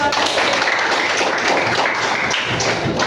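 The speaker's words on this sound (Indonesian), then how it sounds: "Oke, beri tepuk tangan" Dense, steady classroom applause from a group of students, close and loud, a continuous patter of many hands clapping throughout.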